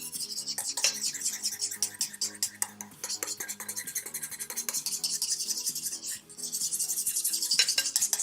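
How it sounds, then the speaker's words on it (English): A tiny whisk stirs shimmer paint for edible glitter in a small dish, giving a steady close run of fine scraping and clinking strokes that continues for several seconds with no talk. "So I just want to mix it really good"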